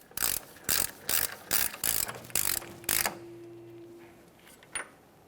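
A socket ratchet turned by hand tightens the axle nut on a 2014-2019 Toyota Corolla front steering knuckle, giving about seven loud, evenly spaced clicking bursts, followed by quiet and a single faint click.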